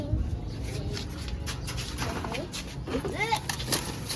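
Birds cooing and chirping in short, repeated calls, with a person talking over them against steady background noise.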